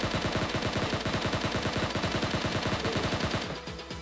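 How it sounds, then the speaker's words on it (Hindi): Rapid automatic gunfire in a shooting video game hammers out in a loud, continuous stream of closely spaced shots before easing off near the end, with no talking. "यहाँ एक बंदा फायर देता रहता है"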